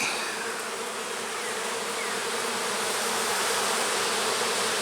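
Dense, steady buzzing of many honey bees at an open hive, close and continuous with no voices.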